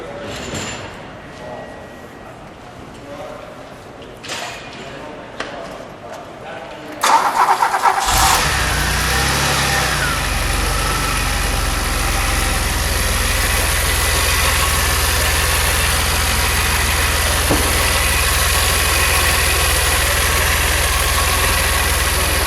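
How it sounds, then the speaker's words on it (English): A 1981 DeLorean DMC engine is started after several seconds of faint clicks and quiet handling sounds. It catches with a loud burst, then settles into a steady, close, unbroken idle that carries on to the end. "Let's fire it up. Let's All hear it right. idle, and then we'll give it a rev."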